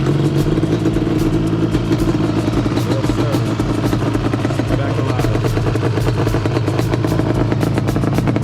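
A Yamaha Banshee ATV engine runs steadily at close range, a loud, continuous buzzing two-stroke drone with rapid clattering pulses and no obvious change in pitch.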